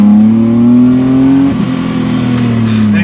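Restored BMW E30 with a swapped M52B28 inline six pulling hard on the road, loud engine note rising steadily, dipping briefly at a shift, then climbing again.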